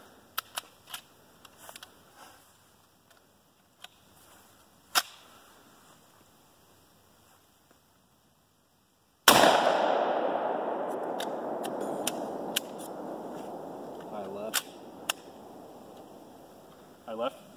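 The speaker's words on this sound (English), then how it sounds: "So I'm gonna shoot some buckshot. I'm gonna shoot two slugs." Liberator12k shotgun firing buckshot and slugs, a single loud, close blast that cuts off a quiet stretch of scattered clicks and leaves a long ringing, rumbling tail with more clicks after it.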